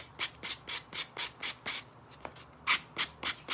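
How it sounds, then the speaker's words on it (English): Rhythmic sanding strokes rub across the edges of scrapbook paper pieces on a faux rusted Christmas tree craft, about a dozen short scratchy passes in steady succession, close up with a brief pause midway. "I'm just sanding the edges of the ones that have the scrapbook paper"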